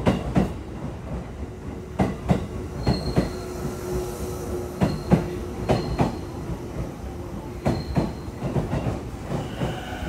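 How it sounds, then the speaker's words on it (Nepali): A train runs along the track in Japan, rolling with a steady rumble and repeated rhythmic clacks and knocks of wheels over rail joints, close and continuous, with a faint squeal tone at times and no voices. "यो ट्रेनमा चढेर हामी जाँदैछौँ"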